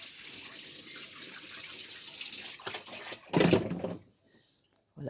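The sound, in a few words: water pouring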